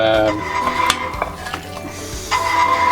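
Cooked penne pasta stirred into a beef sauce in a pan, with metal utensils clinking and scraping against the pan amid soft sizzling, close and fairly loud, no talk.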